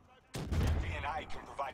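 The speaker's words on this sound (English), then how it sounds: "they're shooting me" A heavy burst of gunfire in the video game Call of Duty: Black Ops 3 strikes suddenly and booms, then tails off under a player's voice.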